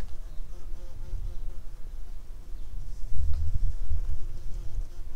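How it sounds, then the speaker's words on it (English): Bumblebees and honeybees buzzing among tomato flowers on a farm, a continuous low droning hum that swells louder in the second half, close by, with no talking. "we employ not only bumblebees, but also we have honeybees on the farm"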